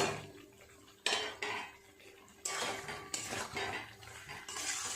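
Chicken and fried potatoes are stirred in a cooking pot, the spoon scraping and clanking against the metal in repeated bursts over a steady background of cooking noise.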